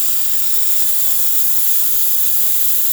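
A Breville espresso machine's steam wand blasts a loud, steady high-pressure hiss, continuous and unbroken from start to finish with no talk.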